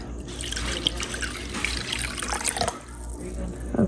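Water is poured from a cup into a bowl of cornstarch, a continuous splashing trickle with faint drips, fairly quiet and close.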